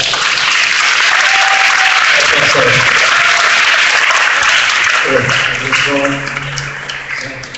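Audience applause fills a St. Louis town hall, loud and steady for several seconds before tapering off, with a few voices calling out near the end.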